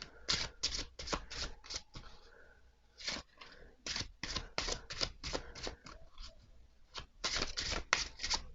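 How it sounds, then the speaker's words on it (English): Rapid, crisp riffling and slapping of an oracle card deck being shuffled, repeated in bursts with short pauses between, close up and fairly quiet. "just make sure that this is shuffled well before I pull a card"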